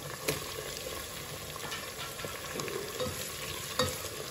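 Onions and tomatoes frying in a pan for a vegetable dum biryani, with a steady close sizzle and a few sharp scraping stirs of a spoon against the pan.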